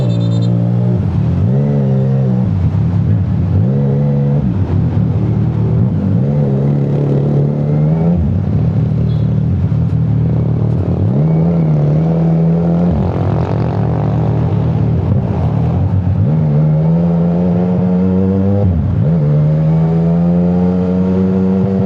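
CFMoto 675 NK motorcycle with an aftermarket exhaust fitted with a resonator, revved repeatedly at a muffler shop, the engine note rising and dropping in a series of loud, close blips between idle.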